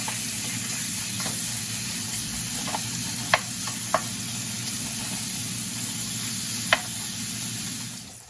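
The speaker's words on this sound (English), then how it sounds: "We're gonna brown this bacon up." Bacon browning in a pan, giving a steady, dense sizzle throughout, with a few sharp pops and utensil clicks, close and fairly loud.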